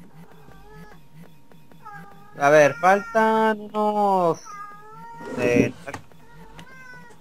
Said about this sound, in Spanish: Ah, el gato...